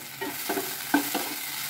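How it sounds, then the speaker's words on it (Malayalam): Food frying in a pan with curry leaves is stirred, giving a continuous bright sizzle with a few soft scraping strokes of the spoon, close and without any voices. "തുറന്ന് ഇളക്കി കൊടുക്കാം."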